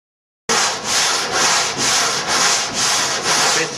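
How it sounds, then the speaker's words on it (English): A wooden sanding block with coarse 80-grit sandpaper scrapes across a homebuilt airplane's surface in loud, close back-and-forth strokes, about seven rhythmic rasps following a brief silence. "keep the sanding block aligned with the axis of the airplane and move it across at 45 degrees this way and then this way"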